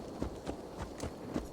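Horse hooves clip-clop at a walking pace in Assassin's Creed Valhalla, a handful of soft, fairly quiet steps spaced evenly over a low background.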